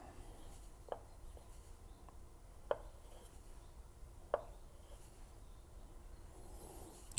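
An avocado is sliced with a knife for a Japanese-style snow crab dish, giving a few quiet, sharp cuts spaced out against the board amid low room hiss, with no talking.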